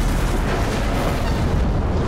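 A loud, sustained explosion in the Mad Max video game, a dense roaring rumble that holds at full strength for the whole moment with no voice over it.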